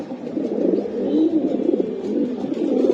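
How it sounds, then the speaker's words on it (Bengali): Pigeons of the Budapest, Dragon, Homa and racer breeds cooing in a close, continuous, throaty murmur that stays loud throughout, with no speech. "এই যে দেখেন কবুতরগুলো আমি দেখাই দিলাম"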